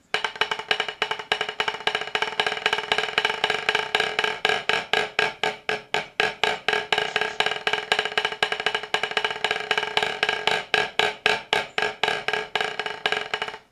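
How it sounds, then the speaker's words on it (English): A drumstick bounces in a steady stream of rapid strokes on a practice surface, shifting from open, ringing rebounds to tight, nearly dead strokes, close and loud with no talking. "go from a very open bounce to a very closed, almost dead bounce."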